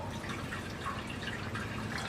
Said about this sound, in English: So I'm gonna top this off with water.